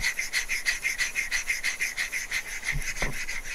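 A chisel plane blade is rubbed back and forth on a sharpening stone, a close, steady rhythm of raspy scraping strokes, roughly three per second, with a faint knock near the end.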